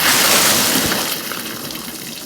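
Water gushes from a tap onto a modular kitchen cabinet, a loud close steady hissing splash that eases slightly over a couple of seconds, with no talk.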